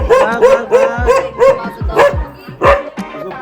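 A pet dog at a family home during an Uttarakhand festival celebration barks in a quick series of sharp, close yaps, with a few softer whimpering yips in between.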